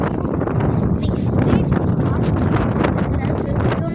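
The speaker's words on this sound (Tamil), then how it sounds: "காற்று அடிக்குது" Strong outdoor wind buffets the microphone, producing a loud, continuous roaring rumble that fills the whole stretch with no pauses.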